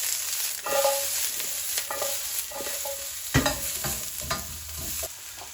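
Onions fry hard in a wok for a Chinese takeaway chicken and mushroom dish, a constant bright sizzle broken by repeated scraping stirs and a sharp clunk of the utensil against the metal.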